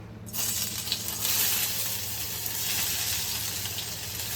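Onions sizzle in a hot kadai for pav bhaji, a steady close hiss of frying that begins abruptly and continues without talk.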